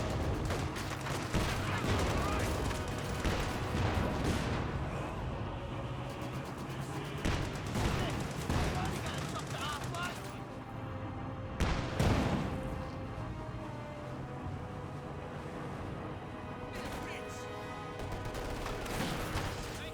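Dense battlefield gunfire from the Company of Heroes strategy game, with rifle fire from guards behind heavy cover and grenades. Sustained volleys and scattered shots roll steadily under a busy mix, with a few sharper bursts standing out.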